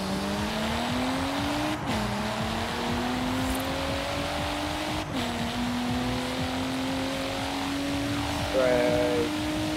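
Revving engines from drag-racing cars in Forza Horizon 3 hold a steady drone with pitch climbing through gear shifts, a couple of sharp resets, and a brief squeal near the end.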